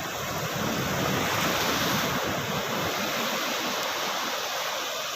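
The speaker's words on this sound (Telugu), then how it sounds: "చూస్తున్నారు కదా అలలు ఎట్లా వస్తున్నాయి సౌండ్" Ocean waves break on a beach with a loud, continuous roar of surf, heavy wind buffeting the microphone throughout, with no voices.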